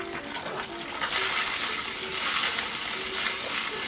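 Onion and carrot pieces go into a hot frying pan for a cumin chicken stir fry, setting off a rising, steady sizzle and crackle that holds at moderate loudness until the end.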